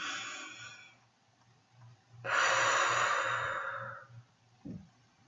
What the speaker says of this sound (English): When you breathe in and you breathe out, you breathe in and breathe out in a circle.